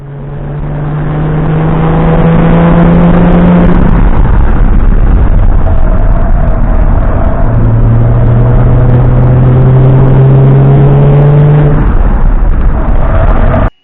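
A 2012 Ford Mustang V6 on a race track, its engine droning loud and steady throughout with rising pitch sweeps as it accelerates, a shift break near four seconds and another climb through the gears.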